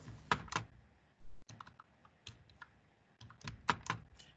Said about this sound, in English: I know what I'm typing.